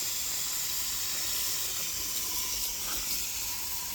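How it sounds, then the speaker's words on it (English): Garden hose running water into grow bags of plants on a hot day, a steady broadband rush of flowing water, close and continuous, with no talking. "So just basically put the hose, making sure the hose goes into each bag, making sure they get watered."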